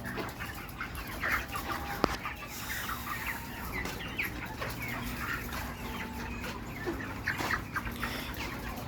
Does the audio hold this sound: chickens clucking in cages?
yes